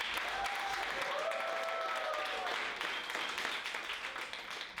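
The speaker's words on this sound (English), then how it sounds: "I think that deserves a little round of applause." Guests at a civil partnership ceremony break into applause, a moderately faint, even patter of many hands clapping that holds steady and then gradually thins out over a few seconds.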